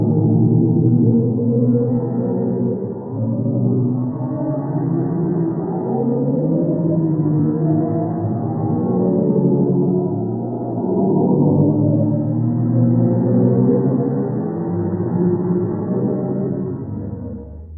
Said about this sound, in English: What you're hearing is a real recording of a black hole deep in the universe